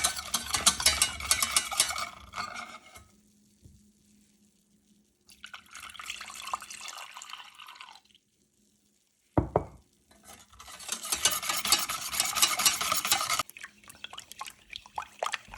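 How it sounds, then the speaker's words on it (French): A whisk beats milk and custard powder in a saucepan in loud, rapid bursts of clattering and splashing, separated by quiet pauses and a brief pouring sound. "puis le reste du lait tout en fouettant jusqu'à obtenir un mélange bien homogène"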